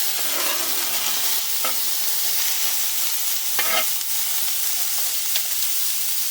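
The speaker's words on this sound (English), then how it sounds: "we're going to scoop them over to the side so we can add our sausage to the pan" Smoked sausage frying in a pan alongside vegetables, a steady loud sizzle with a few brief scraping stirs, no voices.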